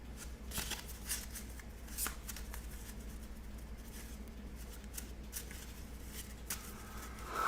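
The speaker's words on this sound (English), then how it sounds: "Shuffling up the deck." A deck of playing cards is shuffled at a tabletop during a tabletop baseball game, quiet riffles and soft papery flicks repeating close by, with no talking.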